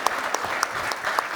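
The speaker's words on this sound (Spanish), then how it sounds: "un aplauso fuerte por compartirnos su experiencia" Audience applause for the panelists at a national forum on the regulation of organic products in Mexico: steady, moderately loud clapping throughout, with a few sharper individual claps standing out.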